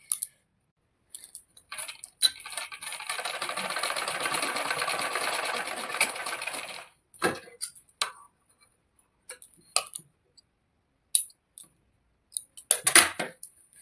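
A sewing machine runs a double line of stitching along a tuck on a blouse, a close, steady whirring burst lasting several seconds, followed by short clicks and brief machine taps with quiet gaps between.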